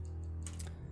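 Keyboard typing during a Mass Effect game session: a short burst of a few clicky keystrokes over a steady low game hum, fairly close.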